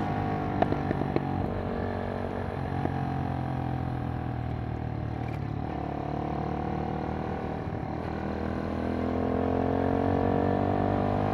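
A Kymco K-Pipe motorcycle cruises through a neighborhood in fourth gear, its engine droning steadily with wind rush throughout, rising slightly toward the end.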